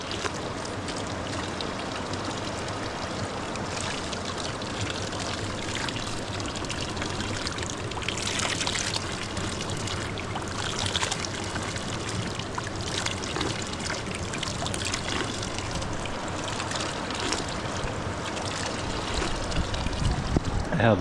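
A village stream of clean water flows close by, a loud, continuous rushing and splashing that stays steady throughout.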